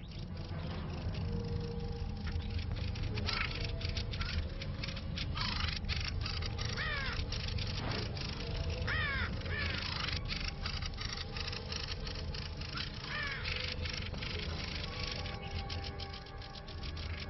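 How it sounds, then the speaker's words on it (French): Several crows caw and squawk in a crowded, continuous din while mobbing an intruding crow, calls overlapping against a steady background of other birds and noise. "Étourdi par la contre-attaque, le corbeau se retire."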